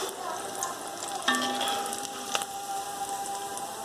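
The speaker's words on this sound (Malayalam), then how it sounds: "എല്ലാം ഇതുപോലെ ഒന്ന് ഫ്രൈ ചെയ്തെടുക്കാം." Semiya vermicelli frying in hot oil for the Thalassery snack kilikkoodu: a steady, close, hissing sizzle with occasional scraping of stirring, continuous throughout with no voices.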